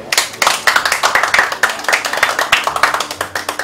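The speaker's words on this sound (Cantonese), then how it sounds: "我哋俾啲掌聲你哋。" A small group claps for four female guests at a one-year anniversary special of a Hong Kong Running Man-style variety show, quick, steady close-range handclaps lasting a few seconds.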